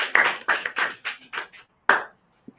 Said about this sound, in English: Please let's give them a round of applause as they exit the stage.